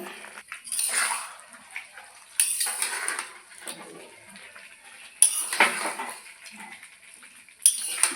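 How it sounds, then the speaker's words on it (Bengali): Fried chicken pieces get tossed and stirred with spices in a pan for chicken curry, with bursts of scraping and clattering utensil noise in four spaced episodes and quieter gaps between them, no talking. "আমি ভেজে রাখা মাংস ঢেলে দিয়েছি এবং সব কিছু মিলিয়ে নিব"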